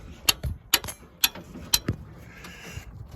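A wrench works loose the rear brake bolts on a 2003 Chevy Suburban, giving a string of sharp, close ratcheting clicks in an uneven rhythm, with quieter metallic rattles between them.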